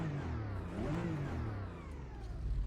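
GT4 race car engine in the Automobilista 2 racing game revs and drones steadily, pitch rising and falling in a mid-range whir, heard from some distance and fairly faint, with no talking.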